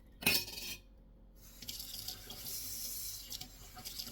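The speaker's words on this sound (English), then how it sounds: "Rinse it out with some hot water." Hot water runs from a kitchen sink tap for rinsing after washing up, a steady hiss following a brief clatter at the start, fairly close and moderate in level with no talking.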